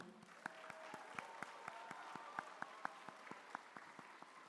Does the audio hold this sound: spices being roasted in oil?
no